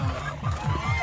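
Turkeys call in a series of short, repeated gobbling bursts, about four of them in quick succession, close by over a steady low background rumble.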